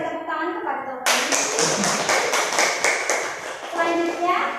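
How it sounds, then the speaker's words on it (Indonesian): Classroom children break into a burst of lively, rhythmic clapping for a student, loud and close, right after a brief adult voice. "Ya beri tepuk tangan kepada Taufik."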